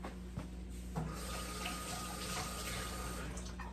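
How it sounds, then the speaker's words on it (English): Hands rinsed under a running kitchen sink tap, a steady splashing water stream over a low constant hum, faint and close, with no talking. "Give my hands a little rinse over here."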